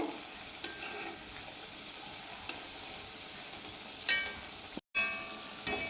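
Unnakkaya plantain snacks deep-frying in hot oil, a continuous bubbling sizzle with occasional soft clicks and scrapes as they are turned, close and alone, briefly cutting out near the end.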